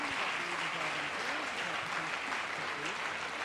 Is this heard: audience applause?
yes